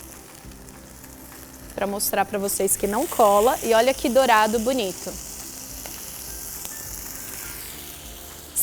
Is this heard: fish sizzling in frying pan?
yes